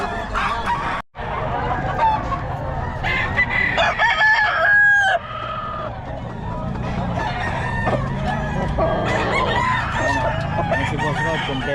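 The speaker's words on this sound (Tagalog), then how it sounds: "Si Boss Rod, kompleto mga manok nito ni Boss Rod eh." Roosters at a gamefowl sale crow loudly and repeatedly, several birds overlapping with clucks in between over a busy outdoor crowd murmur.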